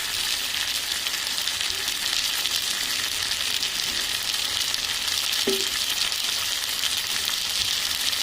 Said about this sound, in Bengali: এবার আমি দিয়ে দিচ্ছি কয়েকটা চেরা কাঁচা লঙ্কা